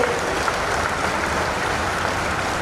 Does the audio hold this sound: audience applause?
yes